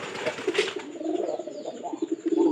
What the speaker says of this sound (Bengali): পায়রার ডাক কিরকম এটা দেখেন